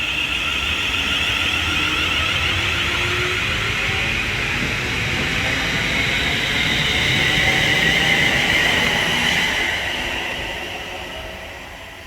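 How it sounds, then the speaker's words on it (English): A London Northwestern Railway electric multiple unit bound from London Euston to Birmingham New Street pulls out of Bletchley station on the West Coast Main Line. Its motors whine steadily and the rumble fades away near the end. "the London Northwestern Railway service from London Euston to Birmingham New Street is now departing"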